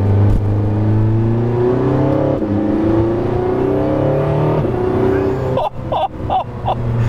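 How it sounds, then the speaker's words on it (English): A Porsche 918 Spyder hybrid pulls hard under full throttle, its engine note rising steadily in pitch with a faint electric whine woven in, loud from inside the car, then upshifts into a choppy burst near the end. "when I floor it, I can hear a little bit of that electric motor"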